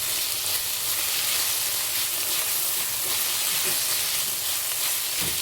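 An eggplant and green chilli curry cooks under a lid in a pan, giving off a continuous, even steamy sizzle and hiss that stays close and steady throughout.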